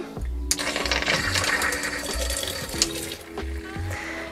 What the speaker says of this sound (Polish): Tutaj mamy zlew z systemem wodnym z pompką zanurzeniową.